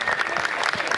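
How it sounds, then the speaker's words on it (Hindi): Audience applause at a Hindi poetry recital, a brief, dense round of clapping from a crowd, loud and steady for about a second. "तालियां बजा दो थोड़ी सी।"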